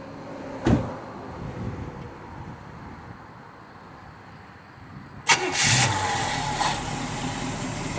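A 1968 Pontiac Firebird with matching-numbers engine cranks with a sharp burst and catches, then settles into a steady nearby idle, preceded earlier by a single brief door-like thump.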